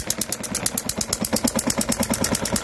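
A working model diesel engine with true fuel injection runs close up, firing in a fast, even rhythmic chug of sharp repeated knocks, loud and alone.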